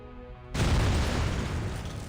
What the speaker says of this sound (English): An explosion shakes the room, erupting with a surge.